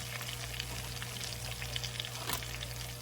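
Cubed pork frying in a pan of oil gives a steady, close, crackling sizzle with small pops scattered through, and no one speaks.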